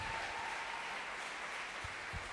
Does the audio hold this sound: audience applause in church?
yes